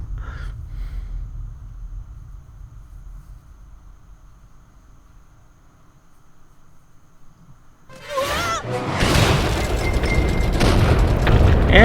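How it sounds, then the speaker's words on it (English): Cartoon explosion from My Little Pony: quiet low hum, then a sudden loud booming blast that rolls into continuous crackling, rumbling explosion noise. "And explosions."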